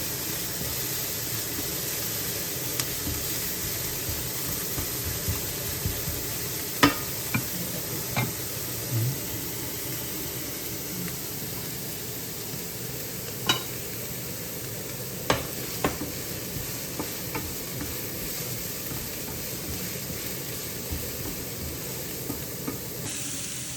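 Onions sautéing in a pan for kottu roti, a steady close sizzle and hiss running throughout with occasional sharp clicks and scrapes of stirring.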